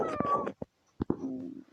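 A cat meows several times in close succession, loud and near, with short pauses and soft breathy bits between the calls.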